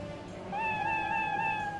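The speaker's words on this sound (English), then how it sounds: "Remote control kitty cat." A remote control kitty cat in TimeSplitters: Future Perfect meows one drawn-out, wavering tonal cry. It rises over a low game background and holds steady for about a second and a half, with no talk.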